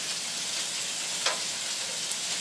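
Meatballs of raw beef sizzle and fry steadily in a pan, a continuous bright hiss with one brief louder crackle burst partway through, no talking.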